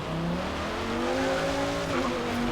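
Mercury Cougar race car lapping the Hockenheim circuit in a racing video game, its engine droning steadily with rising and falling pitch and a brief tire squeal, loud and continuous with no talk.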